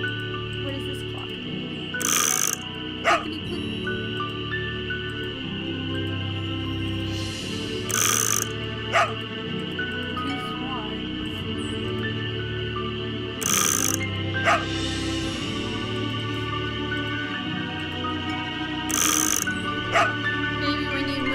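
In the video game Ghost Dogs of Moon Lake, dog barks and yips ring out in short, sharp bursts every few seconds over a steady, droning game soundtrack.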